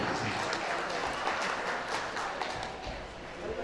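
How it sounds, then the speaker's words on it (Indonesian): A crowd at an association officers' installation ceremony in Dumai applauds with sustained, even clapping that holds steady for a few seconds, filling the room. "Kita berikan tepukan yang paling meriah."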